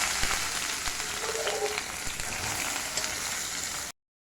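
Vegetables frying in oil with black cumin for a Bengali raw-mango and drumstick chorchori give a steady close-up sizzle that runs evenly for about four seconds, then cuts off.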